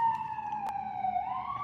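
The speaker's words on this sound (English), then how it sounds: "Sorry for the sirens." Emergency vehicle sirens wailing outside, a steady tonal siren sliding slowly down then rising again, moderately loud at a distance, with a brief click partway through.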